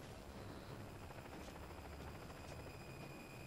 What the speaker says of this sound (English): There's a chopper right here.